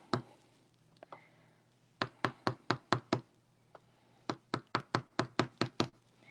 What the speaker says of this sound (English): is tapping down gold paint